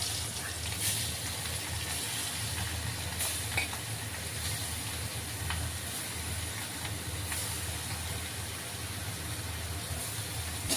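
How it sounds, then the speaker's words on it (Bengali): Fish rubbed with salt and turmeric frying in hot oil, giving a steady, even sizzle that holds throughout with small crackles and pops, no one speaking. "এবার আমি মাছগুলো ভেজে নিই।"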